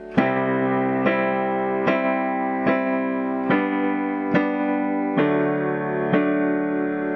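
Piano chords struck one after another at a steady pace, each ringing fully before the next, played alone in a bright, sustained register.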